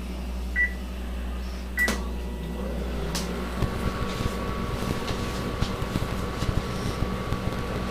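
A few beeps and clicks, then a microwave oven hums steadily with a low, even mechanical drone while melting semi-sweet chocolate chips.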